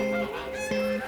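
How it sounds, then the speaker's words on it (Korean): A goose honks twice nearby, each call a nasal, harmonic blare, the second following closely after a brief break, fairly loud with little else around it. "거위예요, 거위."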